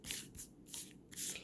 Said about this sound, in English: It's matte, but it's smooth, so it just shuffles really, really nicely.